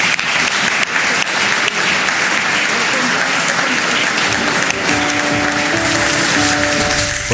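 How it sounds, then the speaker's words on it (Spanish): A large crowd in Paris gives a sustained, loud ovation of dense applause after a speech by Colombian president Petro, with cheering voices mixed in throughout. "sale ovacionado y aplaudido por la multitud que estaba allí en París"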